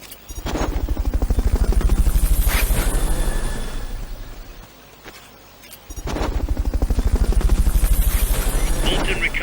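Helicopter in Metal Gear Solid Peace Walker, a loud, rapid rotor thumping that swells, dips briefly around the middle, then returns strongly, close and continuous.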